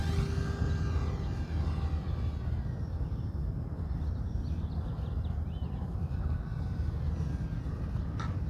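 A ZOHD Talon 250G sub-250g FPV plane flies overhead, its electric motor a steady buzzing drone with a faint whine riding over broadband wind rush throughout, loud and continuous.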